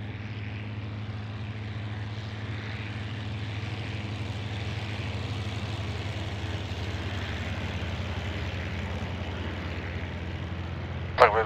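A P-40 fighter's engine drones steadily in flight in the IL-2 combat flight game, a constant propeller rumble ending with a brief sharp click.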